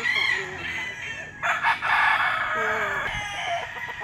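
A Kelso gamefowl stag at a gamefarm crows loudly and close by, a single drawn-out cock-a-doodle-doo with a few clucks around it. No one speaks.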